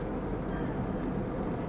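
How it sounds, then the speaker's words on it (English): Small Smart car engine straining and revving hard while climbing a hill near Matlock Bath, a steady loud droning roar heard from inside the car, with no talk over it. "Revs its testicles off, it does."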